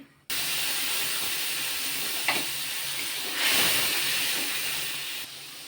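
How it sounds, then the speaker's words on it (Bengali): Cumin seeds hit hot oil for tempering, bursting into a loud, steady sizzling hiss that swells briefly midway and cuts off near the end. "জিরা ফোড়ন দিলাম"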